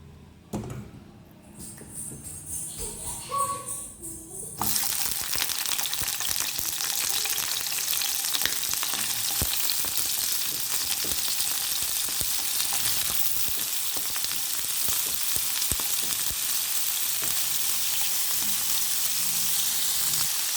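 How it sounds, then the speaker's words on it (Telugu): Boiled chicken pieces drop into hot oil in a pan, the sizzle jumping from a quiet, clattery start to a loud, steady broadband frying hiss that holds to the end with scattered crackles and pops. "ఈ ఆయిల్లోకి మనం బాయిల్ చేసుకొని పెట్టుకున్న చికెన్ ముక్కలు అయితే వేసేసుకుందాం"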